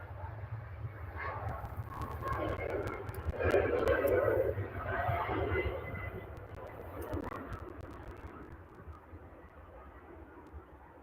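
A Ryanair airliner taxis at Manchester Airport, bound for Marrakesh: a broad, distant jet-engine rumble that swells briefly and then eases off, with steady low background noise throughout.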